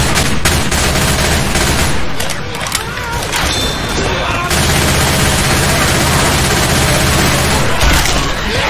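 Rapid gunfire in the zombie shooter Left 4 Dead on Advanced difficulty, dense bursts and booms running almost the whole time, loud and close, with players talking over it.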